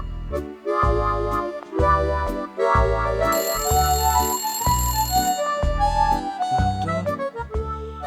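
A melodic electronic phone ringtone plays alone, a bright repeating tune of chiming tones, steady and fairly loud for several seconds.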